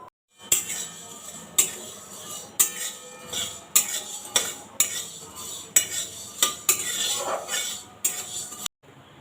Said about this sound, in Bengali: তো শুকনো কড়াইতে আমি মৌরি আর মেথিটা ভেজে নেব।